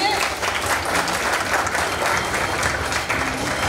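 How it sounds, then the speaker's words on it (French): Loud, dense applause from an audience as winners are called onto a stage at an International Francophonie Day event, continuous clapping throughout with faint voices mixed in. "Bravo, on peut l'applaudir."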